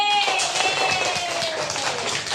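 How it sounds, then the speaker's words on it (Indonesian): Children clap together for a school group in a classroom, a dense, steady patter of many hands throughout, with a voice and some background chatter mixed in. "Ayo tepuk tangan untuk kelompok B."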